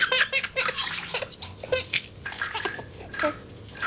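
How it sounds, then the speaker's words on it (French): Shower water sprays and splashes steadily at home while a small child babbles and giggles over it, close and continuous. "Andy, prends une douche rapide et bien chaude, sans mouiller tes cheveux pour éviter d'attraper froid."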